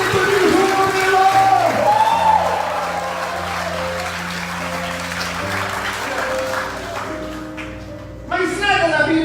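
A church congregation shouting praise and clapping, with loud applause and cheering voices filling the room, settling into sustained vocal tones before a fresh burst near the end.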